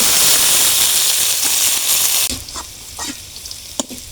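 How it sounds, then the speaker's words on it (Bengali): Boiled potatoes fry in mustard oil in a wok, first with a loud, bright hiss for about two seconds, then settling into a quieter sizzle broken by scattered pops and crackles. "আলু ভেজে নেব, কড়াই সর্ষের তেল দিয়ে দেব।"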